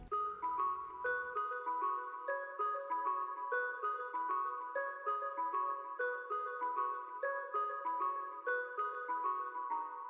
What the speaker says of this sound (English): so we got the Keys Bells preset